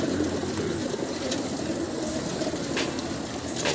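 Racing pigeons at a club loft coo softly in low, rolling calls amid a steady outdoor background murmur, moderately close and fairly faint.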